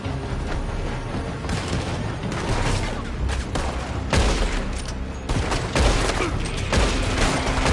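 Rapid gunfire pouring from a building in a video game firefight, a continuous crackle of shots and bursts with heavier thumps mixed in, loud and steady throughout.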